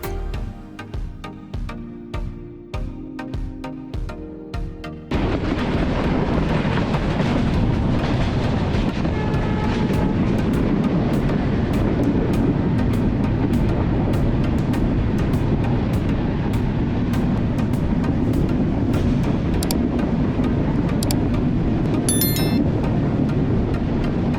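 A passenger train rolling along a rail line near the Hili border crossing, rhythmic clickety-clack of wheels at first, then a loud steady roar of the moving carriage with rattling, heard from on board without talk.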